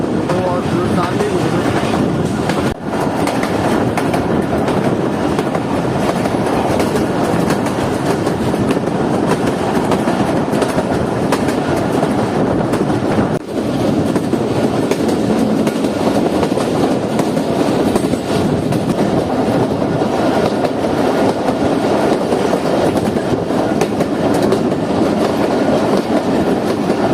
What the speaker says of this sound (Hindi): तो अब ट्रेन इस रूट के सबसे पहले टनल में एंटर होने जा रही है